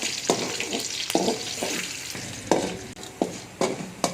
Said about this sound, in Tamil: இப்போ இது இந்த பூண்டு பொன்னிறமாக வரட்டும்